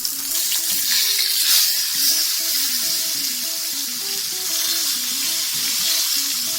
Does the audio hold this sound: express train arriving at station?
no